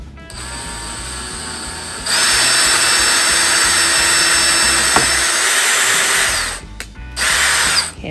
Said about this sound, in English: we're gonna drill our second hole that's gonna go through the base and into what is to be the body